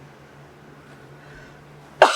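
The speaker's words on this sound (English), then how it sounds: "Oh, this cough, I swear." A single sharp cough bursts out at the end after near silence, close and loud.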